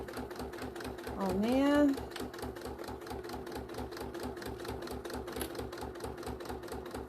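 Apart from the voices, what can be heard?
sewing machine stitching a seam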